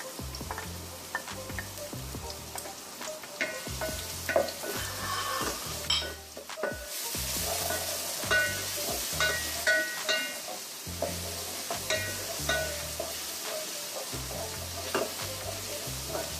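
Steady sizzling of garlic and onion frying in hot oil, with a spoon stirring and scraping against the pan now and then, while rhythmic music plays underneath.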